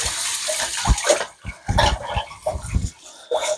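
Water splashes and gurgles in short bursts as hands are rinsed under a tap at a kitchen sink during pizza dough making, close up and uneven.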